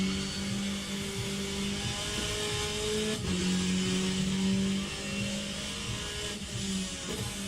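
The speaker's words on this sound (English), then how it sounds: "the big rumbly V8s do sound quite nice in those P3 cars" V8 engines of P3 race cars in the rFactor 2 racing game drone steadily with shifting pitch and occasional revs, a continuous loud rumble with no talk.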